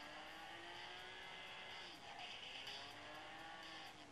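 A car's engine in a driving video game drones steadily and evenly throughout, with a slight pitch dip midway. No one speaks.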